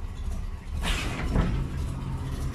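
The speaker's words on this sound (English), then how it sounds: "That's the sound of the compressor." The air suspension compressor of a 1974 Chevrolet Impala hums low and steady, with a louder hissing, sliding burst in the middle as the car lifts, heard close without talk.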